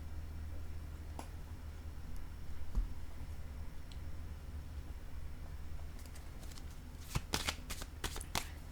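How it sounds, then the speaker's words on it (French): Tarot cards on a table give a faint, sparse tap near the start, then a cluster of quick, close card-handling rustles and clicks at the end in a quiet room. "Je vais déposer une carte ici sur cette femme."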